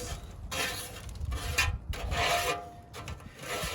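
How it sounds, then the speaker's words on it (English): Grease is scraped off a Pit Boss Austin XL pellet smoker in repeated rasping, rubbing metal strokes, close and fairly loud, in several bursts separated by brief pauses. "Just scrape it right into the trash can to help avoid any cleanup or mess."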